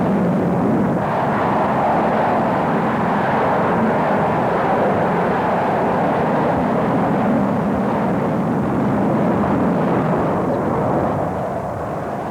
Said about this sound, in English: let's watch and listen for a moment as we watch the pool pictures of this mighty aircraft going north to Iraq